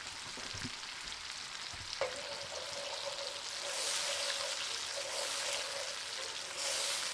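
Garlic, pepper flakes and hot sauce sizzle in a pan for chicken wings, a steady close crackling hiss that swells as liquid hits the heat, with no talking.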